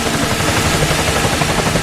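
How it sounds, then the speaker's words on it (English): A traffic helicopter gives a loud, continuous rotor chop and engine roar that fills the whole moment without a break. "This helicopter's fast."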